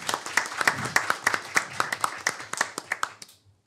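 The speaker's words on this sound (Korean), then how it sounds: "박수로 환영해 주시기 바랍니다." An audience at a university industry-academic cooperation expo and video contest ceremony in Daejeon claps briefly, with sharp, close hand claps in a quick, uneven rhythm that taper off and stop after about three seconds.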